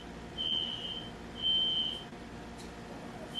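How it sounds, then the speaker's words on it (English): A fire alarm sounds in a building during a math lecture, giving two steady high-pitched electronic beeps of about half a second each, moderately loud above a low room hum, with no one speaking. "now the fire alarm's going off"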